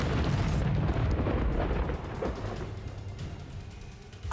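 A Confringo spell explosion in the video game Hogwarts Legacy gives a heavy rumbling boom with crackling debris that decays over a few seconds under continuous game noise.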